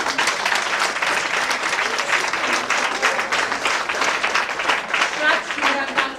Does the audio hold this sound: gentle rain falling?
no